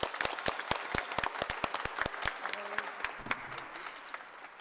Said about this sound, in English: So please give us a round of applause for LaShawn Harris.